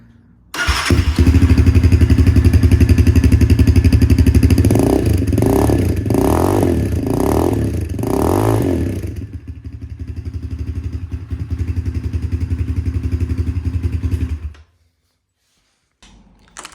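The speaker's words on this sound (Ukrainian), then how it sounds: "Вихлоп на цьому мотоциклі одноточковий, розподілений на дві банки. І звучить він таки досить і досить класно" A 2024 Geon BadDog 250 motorcycle engine starts and idles loudly with a deep throbbing exhaust through a single exhaust split into two cans, revs sharply four times, settles back to idle, then cuts off.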